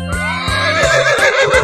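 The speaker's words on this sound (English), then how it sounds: "Horse." A horse neighs in a loud, close whinny with quavering pitch, set over a bouncy cartoon-style musical backing, no talking.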